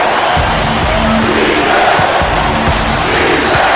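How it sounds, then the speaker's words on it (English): In the NBA 2K13 basketball video game, during Game 6 of the NBA Finals between the Spurs and the Heat, an arena crowd roars after a dunk. The cheering is loud and sustained throughout, with a low, dull thumping underneath. "And you could feel the crowd react as one."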